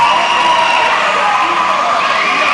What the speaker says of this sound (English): The crowd is making so much noise.